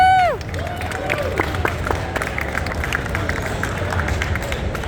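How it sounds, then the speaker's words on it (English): Convention crowd at a fan expo clapping and cheering as two guests are welcomed, a steady wash of applause with whoops and a descending squeal at the start. "Let's go ahead and give a round of applause to Eric Stuart and Dan Green"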